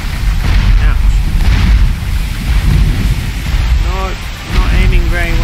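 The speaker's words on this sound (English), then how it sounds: "Hold click to fire your cannons." Cannons fire from a pirate ship in a sailing video game, heavy booming blasts rolling under a continuous roar of wind and sea, with a voice talking over parts of it.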